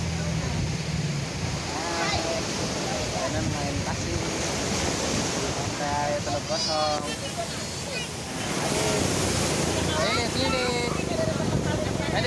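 Steady surf roar of beach waves at Teluk Gosong beach runs throughout, with children's voices and chatter rising above the constant washing noise.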